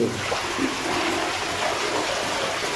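Natural spring water runs steadily into an open village well, a continuous close rushing and splashing wash with no voices over it.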